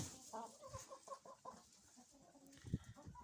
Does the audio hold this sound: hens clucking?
yes